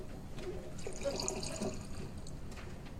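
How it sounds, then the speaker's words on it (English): A drink is poured at a bar, a short liquid trickle and splash lasting around a second over a low room murmur. "Pour me a drink."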